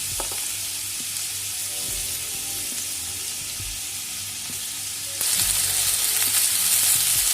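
Finely chopped onion and potato sizzle steadily in a pan of hot oil for stuffed poori, a constant close hiss that grows brighter and louder partway through as more goes in or is stirred.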